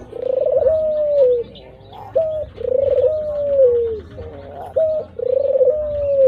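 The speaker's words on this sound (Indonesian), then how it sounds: "Burung puter atau ringneck dove Streptopelia rhizoria." Ringneck dove (Streptopelia) cooing close by, three repeated phrases of a drawn-out, smooth coo followed by a short rising note, with soft background noise.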